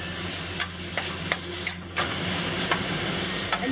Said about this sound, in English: use the spatula to break up the clumps of ground pork